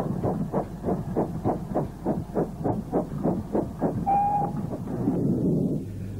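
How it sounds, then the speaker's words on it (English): Steam locomotive No. 6005 King George II arriving with a northbound passenger train in the 1950s, loud rhythmic chuffing beats at a steady pace, with a brief whistle-like tone midway, close and dominant. "number 6005, King George II, arrives with this northbound passenger train"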